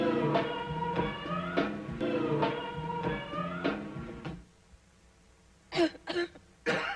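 Harsh, repeated coughing fills a 1993 French-language cough syrup commercial, a run of throaty hacks at close range followed after a quiet gap by three shorter coughs.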